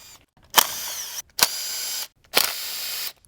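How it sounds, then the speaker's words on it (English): Three separate bursts of ratcheting from a 10mm socket as bolts holding the coil packs to a Gen 3 HEMI valve cover are backed out, each burst bright and close, with short silent gaps between. "Using a 10mm socket, remove the 8 bolts that hold the 4 coil packs to the valve cover."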